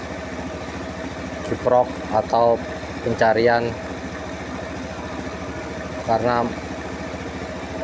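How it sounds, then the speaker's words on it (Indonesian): Honda Scoopy FI motorcycle engine idling, a steady, even mechanical putter running throughout beneath someone speaking in short bursts. "Ini udah nggak mati nih, motor udah nyala."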